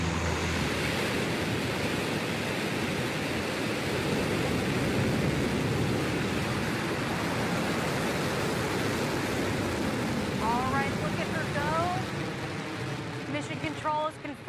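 The Blue Origin New Shepard rocket engine roars at liftoff on the NS-13 launch, a loud, steady, broadband rumble that fills the whole stretch, with faint radio-like tones near the end.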